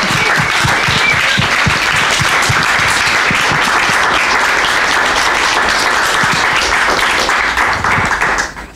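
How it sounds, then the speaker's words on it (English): A loud, dense round of audience applause for panelists at a community conversation on homelessness, many hands clapping steadily and close before tapering off at the end. "Can we get a round of applause for our panelists?"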